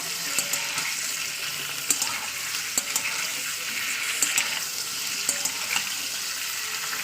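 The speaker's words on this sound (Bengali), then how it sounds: "হালকা করে তেল আমি ভেজে নেবো চিকেনগুলো ভালো করে চিকেনটাকে ফ্রাই করে নেবো" Chicken pieces fry in oil with a loud, continuous sizzle and crackle, broken by occasional stirring clanks from a pan close by, with no talk.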